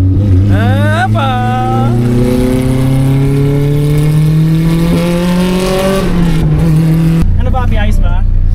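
A Honda Civic SiR engine revs loud and close, its pitch climbing steadily through the gears with a dip at each shift, while a voice speaks briefly over it near the start and end.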